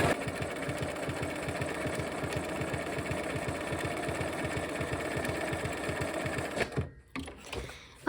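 Sewing machine stitching appliqué around a handle, a rapid steady mechanical chatter of the needle running close and continuous for several seconds, then stopping with a few handling clunks.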